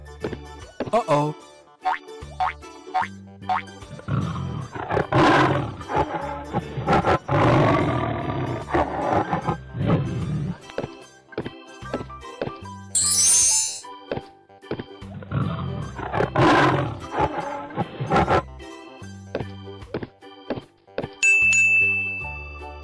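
A tiger roars twice in a cartoonish animal crossing game, loud and close, among bouncy boing effects and chimes, with someone talking along.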